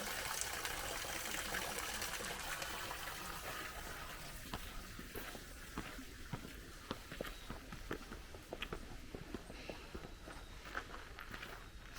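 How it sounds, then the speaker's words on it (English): Fresh mountain water runs steadily at Omiwa Shrine in Nara, a constant close hiss with footsteps crunching over it throughout. "This fresh mountain water."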